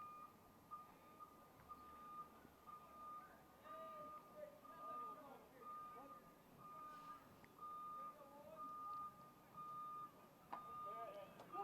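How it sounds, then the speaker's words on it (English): A bus's reversing alarm beeps steadily in a regular on-off rhythm as it backs in to park behind third base at a high school baseball game, Lynn Classical vs Everett, moderately distant over field ambience and faint talk. "That alarm you're hearing is the bus backing into to park inside, down behind third base."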